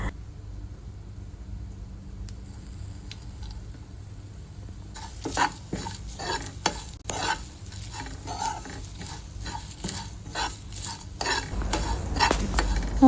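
Pepper, fennel, coriander and curry leaves dry-roasting in a pan on a low flame, quiet at first, then irregular scraping and rattling stirs with faint crackle.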